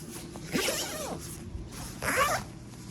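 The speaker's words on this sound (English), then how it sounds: "I'll unzip these." Zippers on KUIU Super Down Haven insulated pants are pulled open close up, two quick rasping zips about a second and a half apart.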